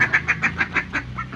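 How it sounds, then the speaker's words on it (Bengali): Domestic ducks coming to their feed let out a run of loud, nasal quacks in a quick, even rhythm, close by, about eight calls with no talk. "হাঁসগুলো চলে আসছে খাবার খাওয়ার জন্য"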